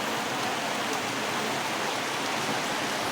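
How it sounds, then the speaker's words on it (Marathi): Rain falling in sunshine, with no clouds overhead, a steady, even hiss of drops on the ground that stays unbroken and moderately loud, with no one talking. "हे बघा, उन्हात पाऊस येतोय"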